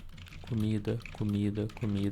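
Keys clack on a computer keyboard while typing into an on-screen text box, with quick light clicks running under someone talking steadily throughout.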